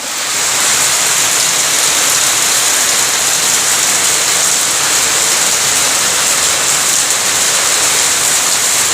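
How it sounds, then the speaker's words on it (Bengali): Heavy rain pours down in a steady, dense hiss that stays loud and even throughout, with no voices. "দেখো কি বৃষ্টি হচ্ছে"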